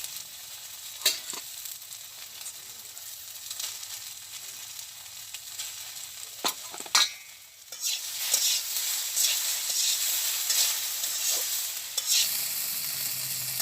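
Fish fries in a pan over a village cooking fire, producing a soft sizzle with occasional sharp spatters, then a louder, dense crackling frying roar that holds steady to the end.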